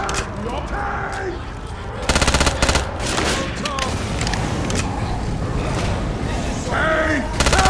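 Rapid gunfire from several players blasting at a Tank in Left 4 Dead 2, loud dense bursts that swell and ease over a cluttered game mix, with a few shouted voices.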